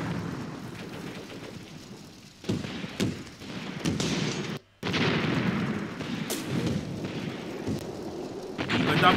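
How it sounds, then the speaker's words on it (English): Soviet mortar barrage explosions in the video game Graviteam Tactics: Mius Front rumble continuously in the distance, dull overlapping booms with a brief silent gap midway before the shelling resumes. "You can see those explosions happening off in the distance."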